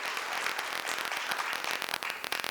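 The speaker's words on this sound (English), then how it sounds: "So a big round of applause for the listing gain also" Audience applause greets a stock market listing gain at an IPO listing ceremony, a dense steady burst of many hands clapping with crackling texture throughout.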